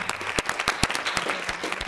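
Applause at a community mental health board meeting, a brief burst of scattered clapping from a small room of attendees with sharp individual claps standing out.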